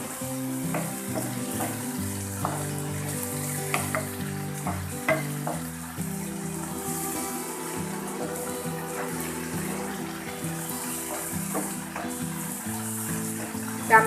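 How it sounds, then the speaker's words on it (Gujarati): Tomatoes cooking down in a pan for matar paneer give a steady, soft sizzle with occasional stirring clinks, running continuously beneath background music. "ટામેટા બરાબર ચડી જાય અને તેનું પાણી બળી જાય ત્યાં સુધી ચડવા દઈશું"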